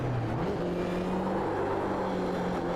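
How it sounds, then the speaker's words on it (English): A Toyota GR86 race car doing a handbrake burnout at Watkins Glen during a national racing series round, heard as a steady, distant engine drone with a continuous whir and slight pitch shifts, faint and unbroken. "Someone's learnt how to actually make it look like you're doing a burnout in an 86."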